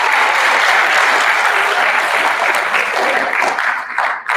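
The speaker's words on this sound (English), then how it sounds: "Let's give our teachers a round of applause." Students at a sixth-grade awards assembly applaud their teachers in a loud, sustained roar of many hands clapping together, which thins out and fades toward the end.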